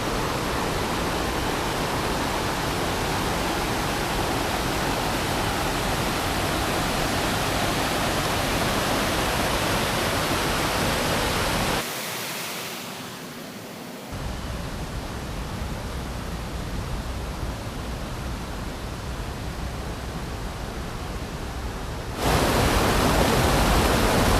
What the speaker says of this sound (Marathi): जरा पर्यावरती जाऊया पर्यावरती किती पाणी आलं आहे ते जरा बघूया आपण